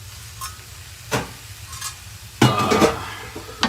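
Food sizzles in an electric skillet, browning pieces crackling in a low steady hiss, with a few sharper bursts of scraping or stirring cutting in nearby. No one speaks.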